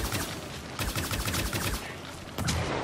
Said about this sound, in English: Here's your Shotgun alt-fire.